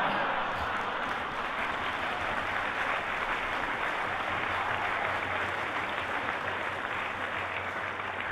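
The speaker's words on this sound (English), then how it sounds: "the orchestra are clapping harder than anybody else" Steady, dense applause from an orchestra and concert audience, continuous broad clapping at moderate volume with no breaks.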